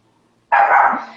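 A single sharp dog bark, close and loud, after a brief quiet moment.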